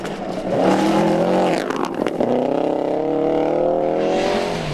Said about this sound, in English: Stephen Moore is really chucking his Subaru about